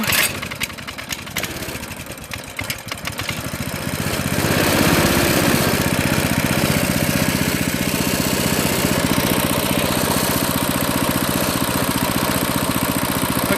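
Coleman CT200U minibike engine fitted with a replacement carburetor, sputtering unevenly at first, then catching and settling into a steady, loud, buzzing small-engine idle that runs on without a break.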